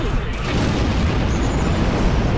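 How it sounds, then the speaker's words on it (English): A big starship explosion in the space combat game Star Trek Online roars as a dense, sustained rumbling blast that stays loud and broad throughout, with no talking. "And there's the big explosion."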